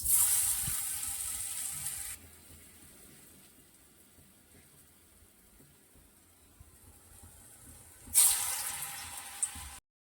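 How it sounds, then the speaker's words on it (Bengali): Pieces of dhoka (lentil cakes) frying in hot oil in a wok, a bright hissing sizzle that swells loudly at the start, fades to a quieter bubbling, then surges again near the end. "এবারে এই যে পিস পিস করা ধোকাগুলো ভেজে নেব।"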